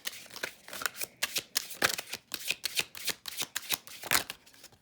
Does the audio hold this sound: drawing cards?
yes